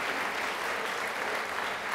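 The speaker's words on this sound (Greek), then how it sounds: "Ένα χειροκρότημα για τη Μέρη." An audience in a television science show studio gives a steady burst of applause, dense and even throughout.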